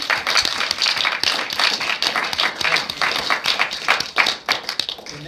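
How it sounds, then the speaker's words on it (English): Audience applause for two volunteers at a cards and silks magic presentation, dense steady clapping from a crowd filling the whole stretch, fairly loud and close, with no talking over it. "A round of applause for both of you."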